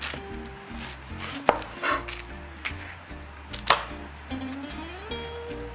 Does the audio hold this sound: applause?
no